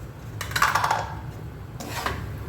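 A spoon scrapes and stirs semolina sheero in a pan, two short rasping strokes close up with quiet gaps between.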